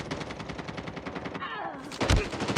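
Rapid automatic gunfire in the Call of Duty Mobile ranked multiplayer game, a steady stream of close shots for over a second, then a brief whooshing effect and a heavy impact burst.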